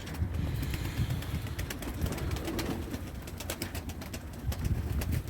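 Pigeons coo steadily at close range, low soft calls overlapping continuously, with occasional flutters and rustling in the background.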